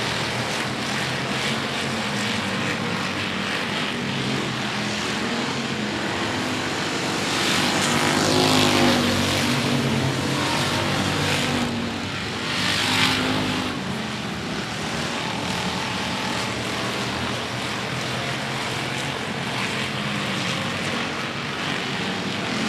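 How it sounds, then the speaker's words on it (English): Pure stock cars race around an oval speedway in a heat race, a dense continuous engine roar heard from a distance that swells as the pack passes, with no talk over it. "Cross flags halfway home in heat race 1 of the Pure Stocks."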